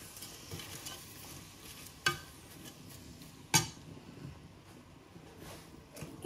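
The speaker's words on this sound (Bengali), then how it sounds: "তেজপাতা আর 5টা এলাচি, 3 টুকরা দারচিনি দিয়া পেঁয়াজটাকে ভালো করে ভাজি লাগবে" Onion frying in oil with bay leaf, five cardamom pods and three pieces of cinnamon, a steady soft sizzle under stirring, with a few sharp clinks of a utensil against the pan.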